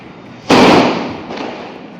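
A single sharp firecracker bang during Diwali bursts loudly close by, followed by a crackling echo that fades away.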